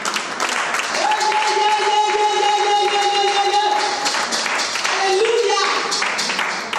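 A church congregation applauds and cheers in praise, a dense and continuous wash of clapping and voices. Sustained keyboard tones hold steadily beneath the crowd.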